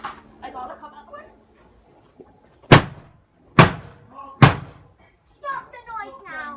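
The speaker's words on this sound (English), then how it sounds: "banging on the washing machine" A washing machine is smashed outdoors with three loud, heavy metallic bangs spaced about a second apart, with people talking before and after the blows.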